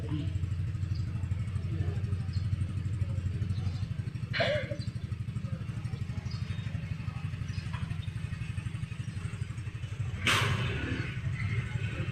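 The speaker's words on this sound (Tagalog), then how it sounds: "At ito naman po ang aming motor." A motorcycle engine idles close by with a steady, rapid low-pitched putter and occasional clatter, on a ride near Alfonso, Tagaytay City; a voice talks faintly in the background.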